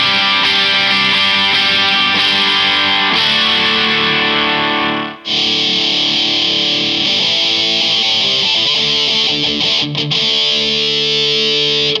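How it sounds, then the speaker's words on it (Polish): Heavy distortion on a Harley Benton ST-JAMster electric guitar, loud sustained chords ringing out almost continuously, with one brief cut near the middle and a few quick choppy strokes later, no voice. "Teraz już mam tego distortiona tutaj."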